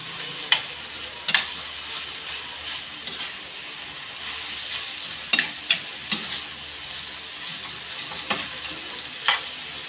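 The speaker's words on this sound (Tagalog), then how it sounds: "Ihalo na natin ang ating toge." Bean sprouts being stirred into Korean-style noodles in a hot pan, a steady sizzle broken by about a dozen sharp scraping and stirring strokes at uneven intervals, close and clear with no talking.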